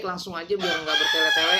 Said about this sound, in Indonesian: Itu ada suara ayam di belakang